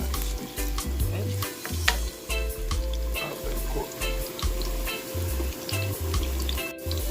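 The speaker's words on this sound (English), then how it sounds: "Then we put in our carrots. And saute them nicely." Carrots sauté in a hot pan for brown stew fish, giving a loud, steady sizzle over the whole stretch, broken by scraping stirs and light clinks of the utensil against the pan.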